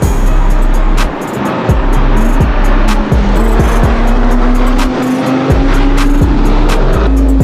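Toyota Supra drifting, its engine droning loudly and steadily while tires squeal in rising sweeps, with repeated gear shifts or throttle lifts breaking the roar throughout.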